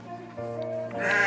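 Garut sheep (domba gibas) bleating on a goat and sheep farm in Wuluhan, Jember, a drawn-out nasal bleat rising at the end, fairly close and with no talking.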